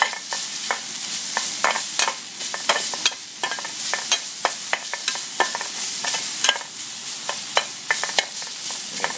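Chicken stir-fries with kaffir lime leaves and chili in a pan, a steady sizzle broken by rapid, crisp clicks and scrapes of a utensil, close and continuous.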